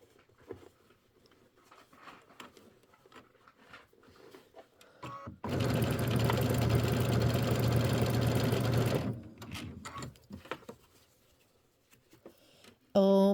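A sewing machine stitches along a fabric edge on a Kimberbell Christmas quilt embellishment, running steadily and loudly for about four seconds amid quiet handling noises.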